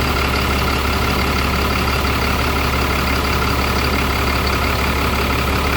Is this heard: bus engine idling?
yes